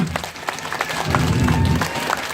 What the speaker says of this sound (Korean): 그냥 딸내미다 동생이다 생각하면 이거 박수가 안 나올까 나올까?